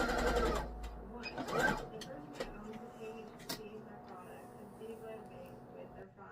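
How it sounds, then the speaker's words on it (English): A sewing machine stitches along a fabric edge for a dog neckwear scrunchie, running in short bursts with a rapid mechanical whir at close range while someone talks. "And sew along the edge."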